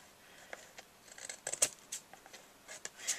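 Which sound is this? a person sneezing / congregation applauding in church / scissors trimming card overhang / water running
scissors trimming card overhang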